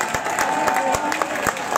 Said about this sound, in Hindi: तो एक बार आप लोग अपने लिए तालियां बजा दीजिए